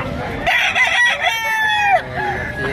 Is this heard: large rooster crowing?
yes